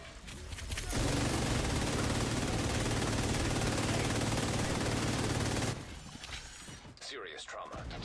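Sustained automatic gunfire in The Division 2, a loud unbroken burst of rapid shots lasting several seconds that stops abruptly, followed by quieter game sounds and a voice.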